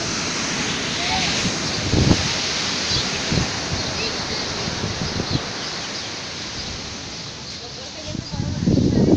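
Sea waves and wind at a beach roar in a constant broadband wash, with a few surges of surf breaking close by and voices talking now and then.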